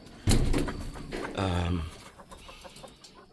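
Hens and roosters clucking nearby, with a louder drawn-out squawk in the middle and softer clucks trailing off, faint background noise.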